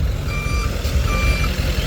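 A large, Mad Max-style truck with a big trailer at an outdoor car show gives off steady electronic reversing beeps over loud engine rumble and crowd noise.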